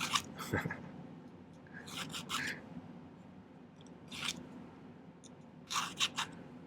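A hand file rasps against a silver ring during silversmithing, in short, quiet, irregular bursts of strokes with pauses between them and no talking.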